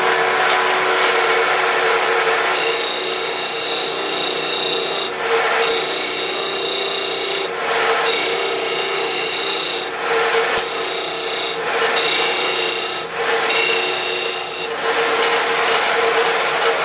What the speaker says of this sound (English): all I'm going to do is just grind the bottom of this thing so it sets at 10 degrees